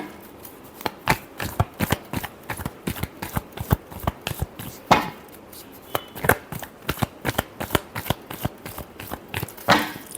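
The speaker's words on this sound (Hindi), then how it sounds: "Last shuffle." A deck of cards being shuffled during a tarot-style reading makes a close, rhythmic run of quick riffling snaps and taps that repeat steadily, with no talking.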